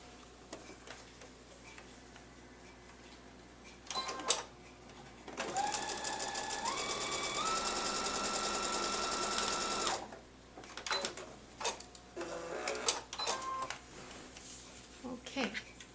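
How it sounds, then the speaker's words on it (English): Sewing machine stitching a diagonal line on quilt bias binding, a steady mechanical whir of about four seconds that rises slightly in speed, framed by quiet handling sounds and soft talk before and after. "I'm going to sew a pin line, a sewing line along where my pin is."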